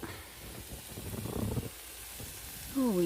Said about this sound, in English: Oh yeah, potatoes are browning up.